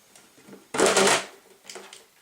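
A stick insect's plastic container is opened close by, with one short rustling, scraping burst followed by a quieter rattle and light handling noises.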